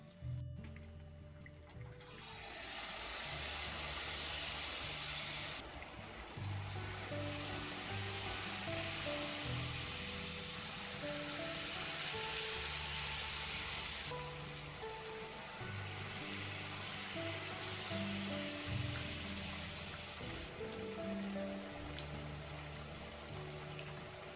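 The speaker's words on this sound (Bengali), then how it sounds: "তেলটা গরম হয়েছে কিনা সেটা বোঝার জন্য আমরা প্রথমে আঙ্গুল দিয়ে একটু ছেড়ে দেখব তেলটা রেডি হয়ে গিয়েছে এখন আমরা ভাজি করবো" Jalebi batter fries in hot oil with a steady, close, bubbling sizzle that holds throughout, and no one speaks.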